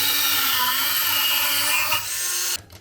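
A high-pitched power tool whines loudly and steadily as it cuts through bolts for a winch, then the pitch dips and it cuts off abruptly near the end, leaving a brief spinning-down rattle.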